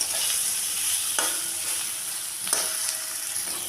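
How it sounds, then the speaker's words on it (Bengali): A spice masala for a tengra fish curry is stirred in a pan over a low gas flame: a steady close sizzle with a few distinct spatula scrapes and no voices. "এক দুই মিনিট নাড়াচাড়া করে নেব যাতে মশলাটা পুড়ে না যায়"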